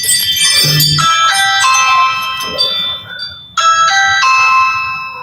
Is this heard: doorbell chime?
yes